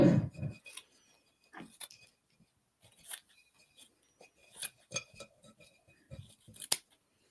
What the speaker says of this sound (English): I'm going to just trim around the base.